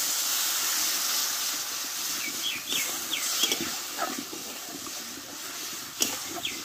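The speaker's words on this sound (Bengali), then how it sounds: "এবার আমি একটু অল্প একটু জল দিয়ে দেবো।" Water poured onto fried spice masala in a hot pan for a radish kofta curry sets off a loud, steady steam hiss with bubbling crackles, close and continuous.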